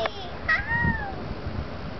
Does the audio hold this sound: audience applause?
no